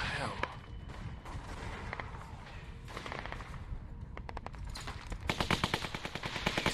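AK rifle fire in The Walking Dead video game crackles in scattered shots, then breaks into rapid, louder automatic bursts toward the end, with a person talking excitedly over the shooting.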